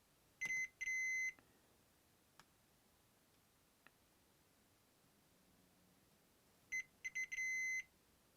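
A multimeter's continuity tester beeps while probing a MacBook logic board: two short tones at the start, then a quick cluster of three or four beeps near the end, with faint probe clicks in between and a quiet room otherwise.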